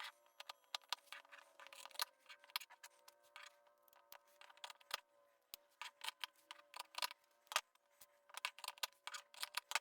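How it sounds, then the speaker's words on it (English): Scissors snip through a fabric bag to trim out its corners, giving a string of quiet, close, irregular crisp clicks and cuts with short pauses between them. "And we can now cut those corners out."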